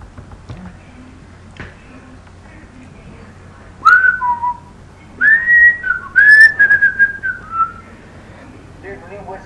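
A clear, melodic whistled tune plays in the video game The Legend of Zelda: Ocarina of Time, with quiet ticking before it and two bright, rising-and-falling whistled phrases standing out loudly in the second half.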